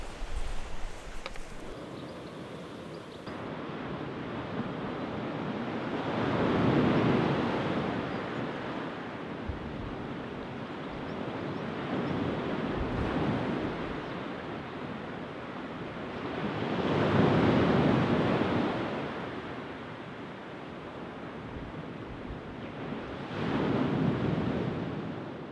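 Waves break and wash over a rocky shore by tidal rock pools, with slow swells rising and falling every ten seconds or so under steady wind buffeting the microphone.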